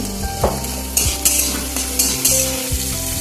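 Loud, close sizzling from a frying pan as beans and capsicum fry, with repeated scraping and stirring clatter as the vegetables are moved around.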